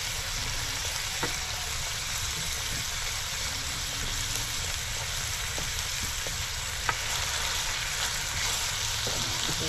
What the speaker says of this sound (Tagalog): Kasi dito na po natin sa katas-katas niya na mantika, dyan na po natin igisa